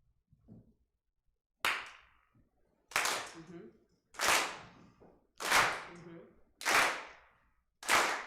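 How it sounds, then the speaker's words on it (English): An audience at a festival celebration of new trans and nonbinary work claps in unison: six loud, sharp claps land at a steady, evenly spaced beat after a brief quiet start. "I just want y'all to clap your hands, okay?"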